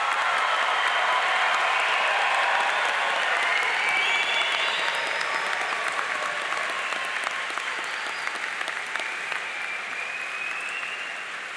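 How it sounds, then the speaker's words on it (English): Sustained applause from a large crowd at a college of agricultural sciences graduation ceremony, dense and loud, continuing for several seconds and slowly easing off. "I am all about the applause today, so one more time for all of our graduates."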